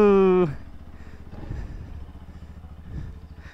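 A Bajaj Pulsar NS motorcycle putters along at low speed, its engine note pulsing close and moderately loud after a brief tone fades out at the start.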